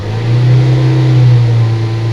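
A car engine running on a BSM injection gas system is held at about 3,000 rpm, giving a loud, steady low hum that swells slightly and eases off, close by with no talk.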